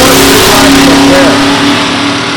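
A 461 cubic inch Pontiac Grand Prix drag car at an NHRA drag strip at Beech Bend gives a loud, sustained engine roar that eases slightly toward the end, with an announcer's voice running beneath it.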